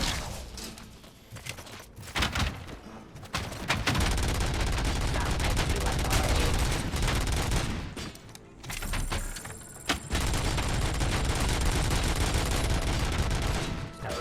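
Dense gunfire from the RoboCop Rogue City video game, heavy rapid shots and explosions in long sustained loud bursts with brief lulls, game-world combat noise layered together.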